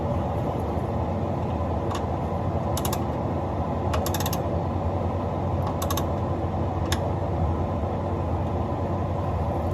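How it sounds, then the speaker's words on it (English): Ratchet wrench snugging transmission pan bolts on an Allison transmission during a full service, short bursts of fine clicking at intervals over a steady background hum. "ratchet and go in a crisscross pattern and make them a little tighter before I throw the torque wrench on them"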